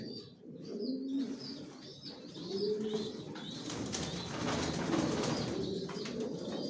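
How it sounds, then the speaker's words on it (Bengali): Johnson-line racing pigeons in a loft, cooing softly and repeatedly over a steady background murmur of the flock, with a few faint chirps and wing sounds. "সব লং এর কবুতর পালি আমার লফটে,"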